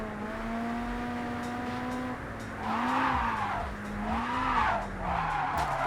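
Car drifting in the video game JDM, a steady engine drone with rising and falling pitch as the tires squeal loudly in three long bursts.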